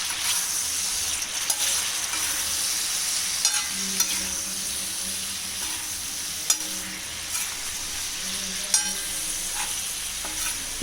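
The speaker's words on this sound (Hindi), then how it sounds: "थोड़ा सा दही का जो पेस्ट हमने बनाया है थोड़ा सा डालेंगे, अभी रोक के रखेंगे और उसको अच्छे से मिक्स कर देंगे।" Chicken tikka boti frying on a tawa, street style, with yogurt paste and green chillies stirred in: a steady close sizzle with occasional spoon clinks and stirring scrapes, no talking.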